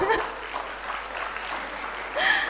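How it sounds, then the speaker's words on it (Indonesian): An audience at a company introduction session claps in a brief, steady burst of applause, with a voice and some chuckling briefly audible at the start and end. "Aplaus dulu dong."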